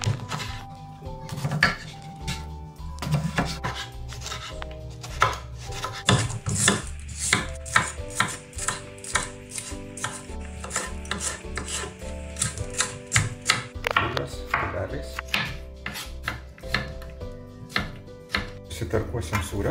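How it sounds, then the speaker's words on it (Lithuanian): Eggplant and bell pepper being cut into cubes on a board, a rapid, irregular run of knife chops going on continuously and sitting among musical tones. "Baklažaną, papriką pasipjaustysim kubeliais."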